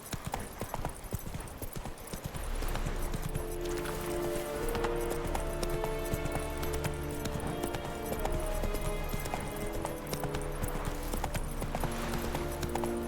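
Roach the horse galloping in The Witcher 3 video game, a quick rhythmic hoof clip-clop that runs nearly without pause over a soft game music bed, fairly quiet.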